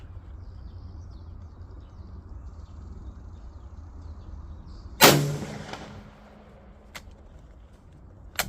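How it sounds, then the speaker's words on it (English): A single sharp rifle shot from a BSA No. 1 Mk III in .303 British at an outdoor range, about 50 meters to target, loud and close with a brief echoing tail, followed by a faint click over quiet background. "So we're going to shoot 5 shots with the adjustment at 50 meters."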